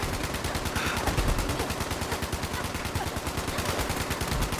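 Rapid gunfire in a video game, a steady stream of loud repeated shots like sustained automatic fire, continuous for several seconds with no clear talk over it.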